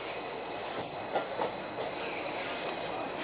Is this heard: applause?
no